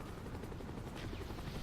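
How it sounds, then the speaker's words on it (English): A helicopter flies close overhead in Call of Duty: Black Ops, its steady rotor drone filling the short stretch at an even, fairly quiet level with no talk. "A little close helicopter there."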